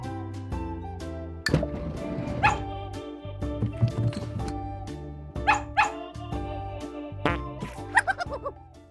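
Cartoon dog barks and yips from a children's animal learning game, several short sharp calls over a steady bouncy musical backing.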